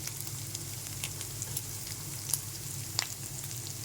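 Chili powder frying with ginger garlic paste in hot oil for a spicy dried-fish dish, a steady close sizzle with a few faint spoon ticks.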